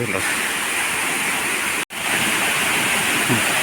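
The Ethamanugudu waterfall roars nearby as a loud, steady, broadband rush, with a brief dropout midway and talk in the background.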